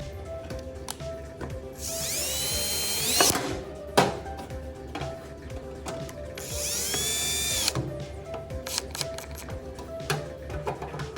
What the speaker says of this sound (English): take your drill and tighten them up.